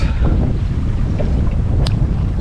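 Wind gusts steadily across a sailboat at sea off the Balearic Islands, a loud continuous rumble buffeting the microphone with no voices.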